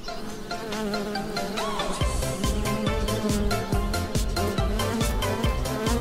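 Buzzing bees in a Lego animation, a steady insect drone with wavering whines, overlaid from midway by a regular thumping beat of music.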